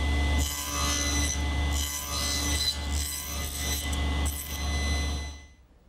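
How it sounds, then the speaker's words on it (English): A saw cuts a half-lap notch through two clamped wooden mutton bars, with a series of rhythmic rasping strokes over a low steady hum that stop near the end. "I need to make a notch for a half lap and clamp them together so I can notch them both at the same time."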